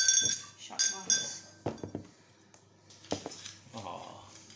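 Glass clinks as Coke is poured into a shot glass, several light sharp taps and clatters spread across the moment, with people talking quietly nearby.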